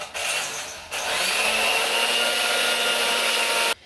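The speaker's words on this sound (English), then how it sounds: "Now you're gonna beat the egg yolks with the sugar, adding the sugar little by little until it becomes fluffy in a pale yellow color." Electric mixer whirring steadily as it beats egg yolks with sugar for a chocolate tres leches cake, a loud continuous motor drone that starts briefly, pauses, then runs unbroken for nearly three seconds before cutting off.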